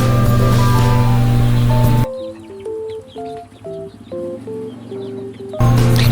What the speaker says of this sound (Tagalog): Malalaki din po itong manok guys.